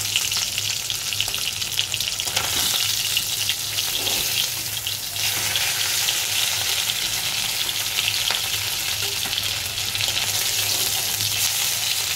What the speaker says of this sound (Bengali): ভালো করে মাছটা আমি এখন ভেজে নেব।